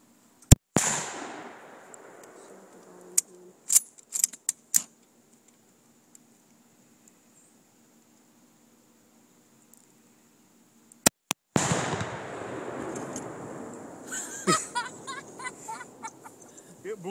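A Tannerite target set off by a Mosin rifle shot, blowing a log over outdoors: a sharp, loud blast with a brief rumbling decay, followed by a few scattered knocks, then a long quiet stretch before noisy movement and talk resume.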